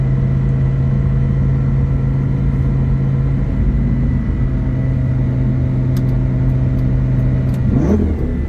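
A 2006 Lamborghini Gallardo's engine drones steadily at cruising speed from inside the cabin, then swells in a brief rising rev near the end.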